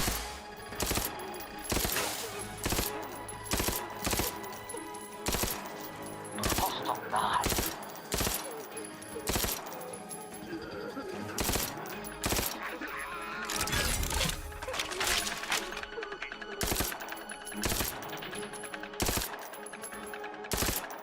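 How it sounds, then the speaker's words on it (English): Automatic hand sniper rifle in The Outer Worlds 2 firing in sharp repeated bursts, loud close cracks separated by short gaps, with a voice talking between volleys. "My automatic hand sniper that I'm shooting at like its burst."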